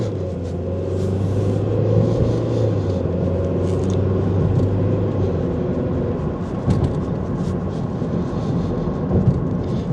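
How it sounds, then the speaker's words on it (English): A Mazda 3 with a failed and then replaced transmission control module accelerates hard and upshifts through its gears. A loud, steady engine rumble continues throughout, with brief pitch drops at each shift and no talking. "Nice smooth shift to third, goes right into fourth."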